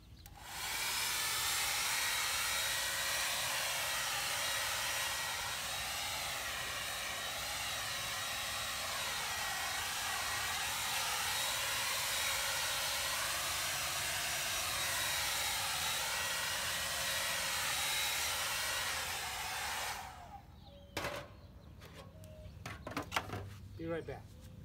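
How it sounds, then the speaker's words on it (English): A hair dryer set on high with the cool button held blows as a loud, steady whooshing roar for about twenty seconds, then cuts off, leaving faint clicks and handling noises. "So I'm going to set it on high and hold the cool button."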